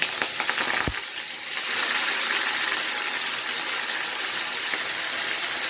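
Peppers (red, green and orange), leek and scallion fry in a pan for ackee and saltfish, giving a steady, close sizzle with a brief clatter near the start.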